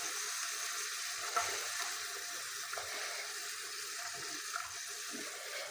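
Onions frying in hot oil in a pot for a bean and vegetable pasta soup, a steady close sizzle that continues evenly throughout with faint stirring knocks.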